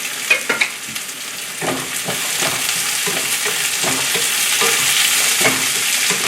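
Chinese sausage, beans and garlic rendering over medium heat in a pan: a steady, close crackling sizzle with a few sharp clanks from stirring early on, continuing without speech.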